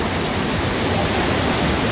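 Steady, loud rush of water fills the whole clip, a broad continuous roar of a fast river close by near Machu Picchu, Peru, with no voices.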